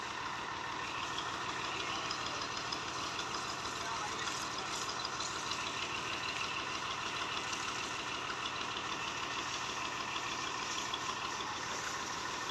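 An old Massey tractor engine idles with a steady, continuous low mechanical throb, close and unbroken throughout.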